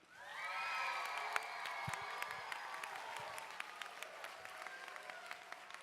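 Audience applause with cheering and whoops at a museum's awards ceremony for a youth tech challenge, greeting the museum's head; dense clapping swells quickly and then holds steady and fairly loud.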